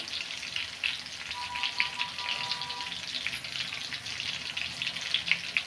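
Chicken pakora deep-frying in oil over medium heat, a dense, steady crackling sizzle with small bubbling pops, close and continuous throughout.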